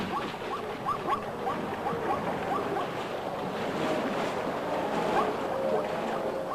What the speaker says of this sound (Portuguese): Uma tempestade tropical numa área represada derrama milhões de litros de água no rio.